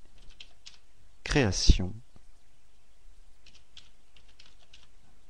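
Light keystrokes on a computer keyboard while a file name is typed into a spreadsheet's save dialog: scattered soft clicks before and after a short burst of speech in a quiet room.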